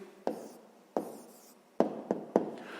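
A pen writes an answer by hand on paper during a fifth-grade maths exercise, a few sharp scratching strokes and taps, close and alone with no talk.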